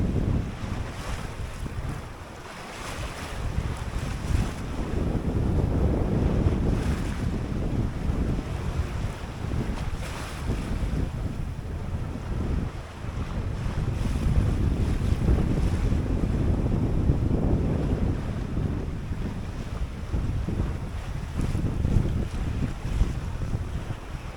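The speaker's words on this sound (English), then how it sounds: "Look at the water, the waves just breaking on it." Ocean waves break and wash around a small 21-foot home-built sailboat far out on the Atlantic, with steady, loud wind roaring across the microphone throughout and surges of rushing water rising and falling.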